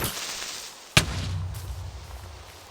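A Minecraft creeper explodes with a single sharp, loud blast, followed by a rumbling tail that fades over the next second or so.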